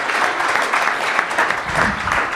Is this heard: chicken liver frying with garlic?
no